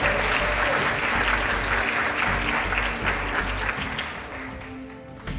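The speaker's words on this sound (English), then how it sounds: "let's have another round of applause for these amazing contestants" Another round of applause for the contestants at a University of Alabama Three Minute Thesis competition, dense steady clapping from a large audience that tapers slightly toward the end.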